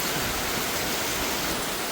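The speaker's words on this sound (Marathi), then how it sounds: "जोरात पाऊस येतोय ना, आवाज येतोय." Heavy rain pours down in a dense, unbroken hiss and patter, loud and close, with no talking heard.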